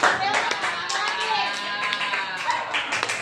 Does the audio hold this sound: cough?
no